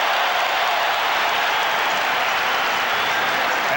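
A basketball arena crowd at an NBA Finals game between the Chicago Bulls and Los Angeles Lakers reacts to Will Perdue with a loud, continuous roar of cheering and applause, dense and unbroken throughout.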